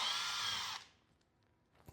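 A power drill whines loudly and steadily for under a second while driving into a wall during an EV charger install, then cuts off, leaving faint room noise and a small knock near the end.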